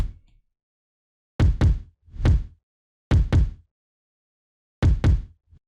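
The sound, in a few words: reversed kick drum in a future bass drop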